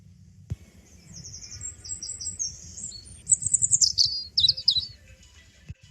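Birds chirp in a series of bright, rapid trills and tweets, growing busier toward the end over a quiet background.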